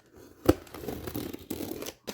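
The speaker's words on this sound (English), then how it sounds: "Have my trusty scissors." Scissors cut and tear open a cardboard package during an unboxing, with a sharp snip followed by rough ripping and crinkling bursts up close.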